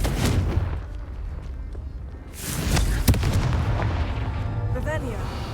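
A Confringo spell explosion in Hogwarts Legacy booms amid rumbling battle noise, with a sharp blast near the middle and continuous fiery crackle and thuds around it.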